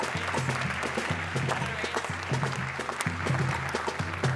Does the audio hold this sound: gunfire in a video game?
no